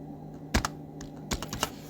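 A brand-new computer keyboard is typed on in a few quick, close keystroke clusters, sharp clicky taps with short pauses between them and no talking.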